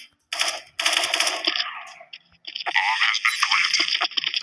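Rapid automatic gunfire from the online shooter game Special Force 2 crackles in loud, dense bursts, a short pause breaking two long volleys of sharp rattling shots.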